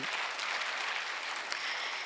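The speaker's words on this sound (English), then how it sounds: "It really needs a louder applause." Applause from a convocation audience for the NMIMS School of Science, a steady, dense wash of many hands clapping at an even level for about two seconds.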